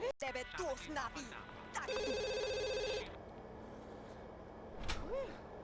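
A telephone rings in The Sims game, one long electronic ring burst lasting about a second amid quick game sound effects and chirpy character voices.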